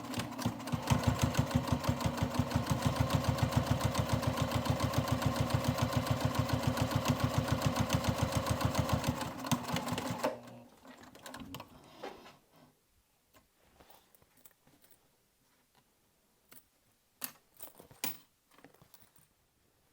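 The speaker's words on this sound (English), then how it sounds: "so now I'm going to go ahead and do my 1/8 inch top stitch" A sewing machine runs steadily for about ten seconds, sewing a 1/8 inch top stitch just below a zipper on a dual-zip crossbody bag, then stops, leaving scattered light handling clicks.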